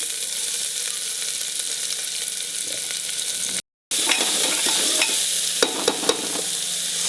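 Chopped onions with ginger, garlic and green chilies sauté and sizzle in a pan. The sizzle is loud and steady, broken by a brief cut and then scraping stirs.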